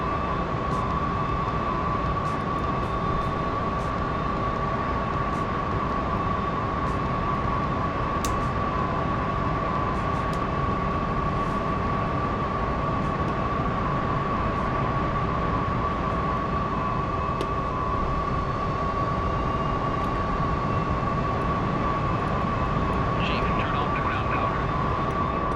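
A jet engine spooling up in the DCS flight simulator, a steady whining drone with a sustained tone, continuous and fairly loud throughout with a faint voice briefly underneath.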